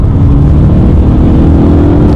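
Engine of a car competing in the Targa NZ 2012 tarmac rally, pushed flat out while running hot, heard from inside as a loud, steady, continuous roar with a rough low drone throughout.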